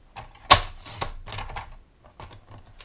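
Paper being cut for a card-making layer, heard as one sharp loud snap of a trimmer blade followed by softer scraping and rustling strokes, close and alone with no talk.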